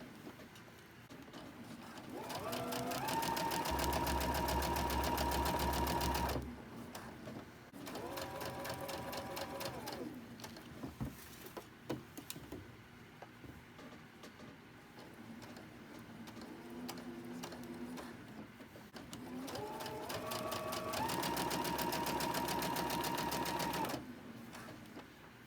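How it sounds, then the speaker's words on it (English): A sewing machine chain-stitches cotton quilt block pieces with a quarter-inch seam and a 2.5 stitch length. Its fast, even mechanical whirr runs in three separate stretches, with handling noises and faint talk in the gaps. "Again, we're going to make 2, so I'm going to chain stitch them."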